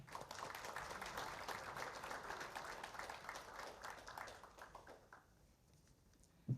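Applause from a seated audience at a medical association's anniversary ceremony in Seoul, a dense steady wash of many hands clapping that fades out near the end, with a brief thump at the close.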